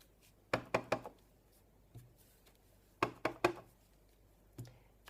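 A rubber circle stamp strikes a card again and again, each set of three quick, sharp taps close by, with a few softer single knocks between them on a quiet desk.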